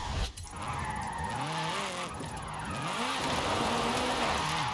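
A drifting car in Forza Horizon 5 revs hard with wheels spinning, and the engine pitch rises and falls in repeated sweeps under a continuous roar of tire noise.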